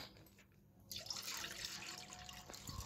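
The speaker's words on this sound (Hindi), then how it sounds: "तीनों थैलियों को कट करके आपको दूध को कढ़ाई में डाल देना" Milk poured from cut plastic packets into a kadhai for making khoya, heard as a steady liquid splash and trickle that starts after a quiet moment and continues, fairly close, with no talking.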